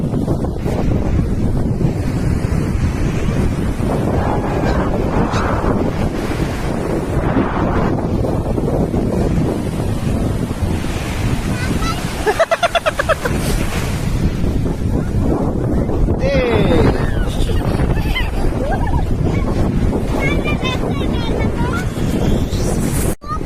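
Sea waves breaking and surging on a beach, loud and continuous with heavy wind buffeting the microphone, people talking faintly underneath.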